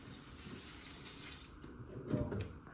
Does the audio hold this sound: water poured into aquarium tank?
yes